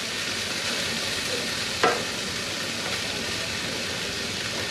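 Jalapeno chicken stir fry sizzling in a skillet on high heat, a loud, even hiss throughout with one brief clank partway through.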